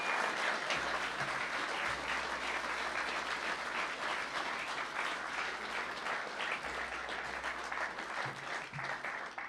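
Audience applause for the teachers at a school presentation, a full sustained round of clapping from a large crowd, steady and even throughout.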